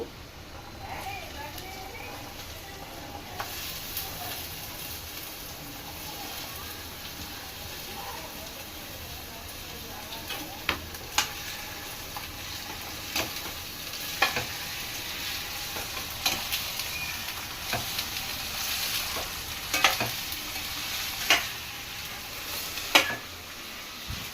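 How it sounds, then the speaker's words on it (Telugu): Ivy gourd fries with onions in oil in a pan, a constant soft sizzle under scattered stirring clicks and scrapes that grow more frequent, with a voice talking throughout. "ఉల్లిపాయలు తొందరగా వేగితే ఇప్పుడు దొండకాయలు వేస్తున్నామండి"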